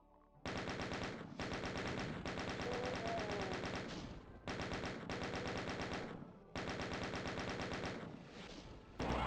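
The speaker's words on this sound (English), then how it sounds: "What we want to do now is go on a shooting spree" Rapid automatic gunfire from Ultimate Doom's Thy Flesh Consumed episode rattles in long loud bursts with brief pauses between them, close and steady, with no talking.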